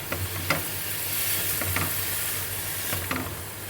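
Bottle gourd and prawns stirred in a pan over full flame sizzle continuously, with a few distinct scraping strokes of the spatula against the pan, close and steady, no talking.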